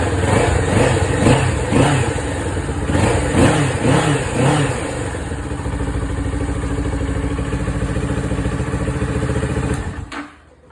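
A 2023 Ninja 650 KRT motorcycle with its stock exhaust revs up in several rising bursts, then drops back to a steady loping idle before cutting off near the end.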